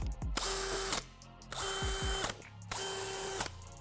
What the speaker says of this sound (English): And then drill some holes.